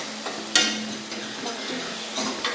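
Dal tadka crackles and sizzles in a home kitchen, a steady frying hiss with a sharper burst of spattering partway through and a few smaller pops near the end.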